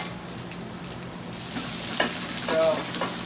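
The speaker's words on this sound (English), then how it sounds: "So, kind of moving it around in the pan, obviously using your tongs." Vegetables stir-frying in a hot pan for steak and prawn yakisoba, a constant sizzling hiss that grows louder as tongs move them around, with a couple of light metallic scrapes.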